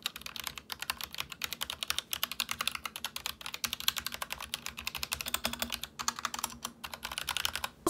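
A mechanical keyboard with box red switches and a custom keycap set is typed on quickly and close up, a busy stream of light clacks and taps with no talking.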